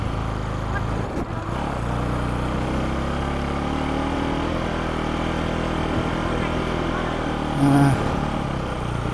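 A motorcycle engine runs steadily at low rumble throughout, close by, with people talking over it and a brief louder surge near the end.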